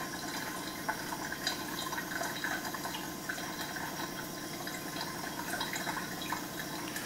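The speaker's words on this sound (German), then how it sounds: "Das Einzige, was man hört, ist plätscherndes Wasser und das ist ein doch relativ schönes Geräusch" Steady trickling and splashing water runs continuously from a reverse osmosis drinking water filter, a soft constant flow with small drips and bubbles, no voices.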